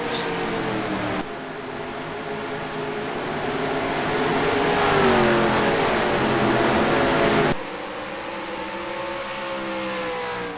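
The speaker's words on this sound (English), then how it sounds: "Green flag's waving, and we're back to racing here with the TDR Whelen Modified Series" TDR Whelen Modified Series race cars roar past at Pocono, a loud sustained engine drone with rising and falling pitch as the pack passes, then a sudden drop to a steadier, thinner whine.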